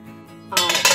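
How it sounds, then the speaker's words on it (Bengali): A little water is poured into a wok of salted water spinach, a sudden close splash and hiss that runs on for about half a second. "তবুও সামান্য একটু জল দিয়ে দেব।"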